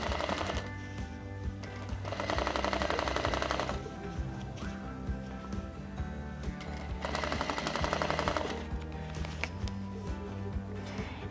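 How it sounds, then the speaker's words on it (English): A sewing machine stitching the seam of a jacket lining runs in two bursts of fast, even needle chatter, with quieter mechanical handling noise between and after them. "we're just gonna stitch at a 1/2 inch all the way around"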